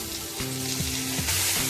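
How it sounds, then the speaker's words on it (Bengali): Grated carrot frying in hot ghee for carrot halwa, a loud, dense sizzle filling the pan with a few stirring strokes cutting through, heard up close and without any voices. "এটা ঘি দিয়ে একটুখানি নেড়ে চেড়ে নিয়ে দুধ দিয়ে দেবো"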